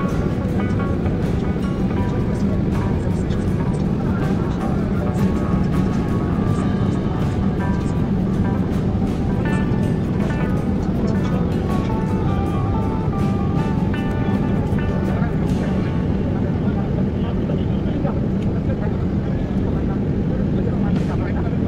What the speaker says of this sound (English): just before the plane landing at Sylhet International Airport